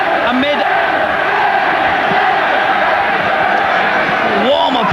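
A stadium crowd at a 1989 Widnes versus Wigan rugby league championship decider at Naughton Park fills the air with a broad, sustained roar and applause at kickoff, while a commentator talks over it.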